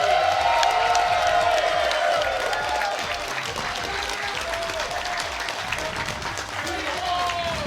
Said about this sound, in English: Everybody just clap.